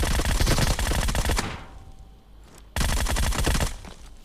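Gunfire in PUBG Mobile comes as loud, rapid automatic bursts, one long burst, a brief pause, then another burst, with no talk over it.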